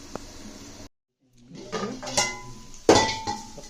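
Metal lid set onto a cooking pot of potato and chana dal curry, a brief clink followed by clattering pot-and-lid knocks and a sharp metallic bang near the end.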